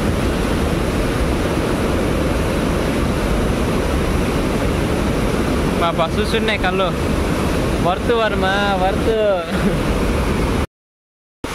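Floodwater roars steadily through the opened Musi Project dam gates after heavy rain in Telangana, a loud, constant rushing wash with wind buffeting. Voices talk briefly in the middle before the sound cuts off abruptly near the end.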